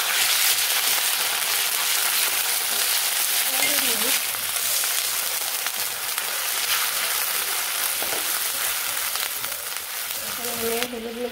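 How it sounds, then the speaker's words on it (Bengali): Ginger-garlic and onion pastes fry in a pan for a raw jackfruit curry, making a steady, dense, close sizzle that continues throughout, while someone speaks briefly over it. "হালকা একটু ভেজে নিচ্ছি"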